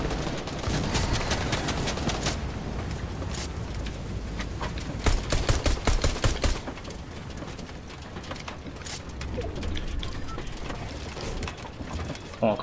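Video game gunfire in a rooftop shootout, with dense rapid volleys of shots and bursts that peak in a loud cluster midway, then continue more sparsely against steady game background noise.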